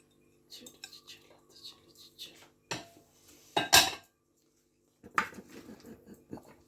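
Utensils clink and scrape against a bowl while mixing a Mediterranean chickpea salad with tomatoes and onions, a few scattered close knocks and stirring sounds with quiet talk in between.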